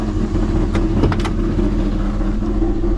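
A rebuilt LS 6.0 LQ4 V8 idles steadily in a 1986 Suburban C20 squarebody, a loud, close, even rumble with a few brief clicks over it.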